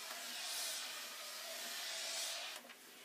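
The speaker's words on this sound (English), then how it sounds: "If you feel that there's little bubbles here and there, turn your steam off and dry iron it." A steam iron hisses steadily while pressing fused interfacing onto fabric, in a broad continuous breathy rush that swells twice and then dips near the end, close by and with no talking.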